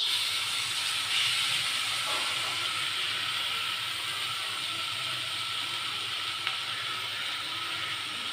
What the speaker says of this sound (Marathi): थोडं तेल टाकलं आहे त्यामध्ये आपण ठेच्याला परतून घेऊया